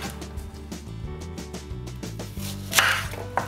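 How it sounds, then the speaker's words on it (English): A knife roughly chopping an onion into big quarters on a board, with a series of irregular close taps and thuds, a sharper knock near the end, and music playing throughout. "So I'm just going to chop it really roughly into sort of big quarters."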